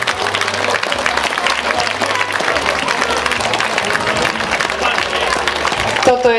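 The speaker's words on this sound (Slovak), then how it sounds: "Veľký potlesk." Crowd applause at an outdoor charity run in Veľký Lapáš, steady clapping throughout, with music and a low rhythmic bass pulse running beneath it.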